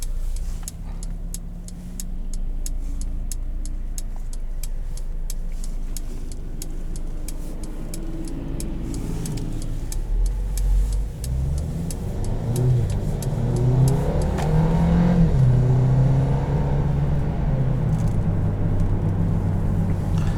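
A 2021 Mercedes-Benz GLB250 engine downshifts and then pulls harder under acceleration while driving, a steady mid-pitched engine hum swelling louder with rising revs heard from inside the cabin, no talking.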